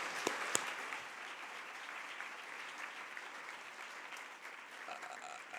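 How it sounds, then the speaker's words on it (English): A large audience at a civic forum on women's wealth in Central Ohio applauds steadily, a dense even wash of clapping lasting the whole stretch with a few sharper claps near the start. "Big round of applause."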